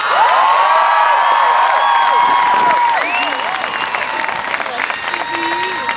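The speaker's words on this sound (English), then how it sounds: "Please give a huge round of applause to Governor Jennifer Granholm." A large rally crowd at Michigan State University cheers and whoops for Governor Jennifer Granholm, loud and continuous, with shouting voices rising over the din throughout.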